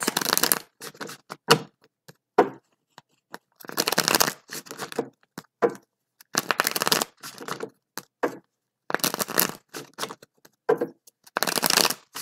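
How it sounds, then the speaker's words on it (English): Tarot cards are shuffled in repeated bursts of crisp riffling and flicking, with short pauses between rounds and no voices. "Let's do 5 shuffles and start."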